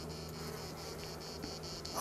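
Honeybees buzz inside an open hive in August, a dense steady hum of many insects with faint wingbeat pulses, fairly quiet and close.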